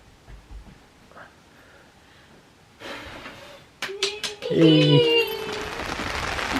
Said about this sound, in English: I love that sound of rain on an umbrella